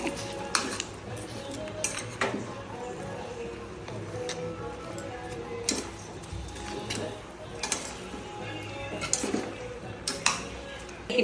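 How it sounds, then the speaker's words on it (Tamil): A utensil scrapes and clinks against a metal pot while mutton gravy spices are stirred in with salt, a steady run of close clatter and scraping with a voice talking throughout. "உப்பு கொஞ்சம் சேர்த்து இப்போ நம்ம இதை கலக்கி விட்டுடலாம்."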